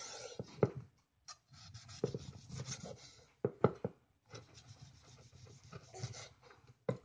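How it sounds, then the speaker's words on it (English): Cooked picanha steak being sliced with a knife, close-up scraping and rasping strokes in short bursts with brief pauses, sharp cutting clicks against a board, no talking. "it's time to see what we got in this beautiful piece of picanha. Let's start making some slices"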